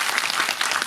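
At a film event, a crowd claps briefly, a dense wash of hands that stays even and fairly loud for under a second.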